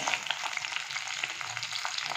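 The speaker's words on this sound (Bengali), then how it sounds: "মাছগুলো ভাজা হয়ে গেছে। এবার আমি তুলে নিচ্ছি।" Tangra fish fry crisp in hot oil for a spicy jhal chochori, a continuous close sizzle and crackle with small popping bursts and no talking.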